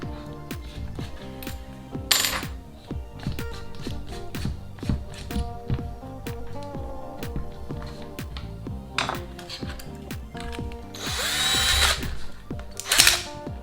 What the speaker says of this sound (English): We've managed to drill through.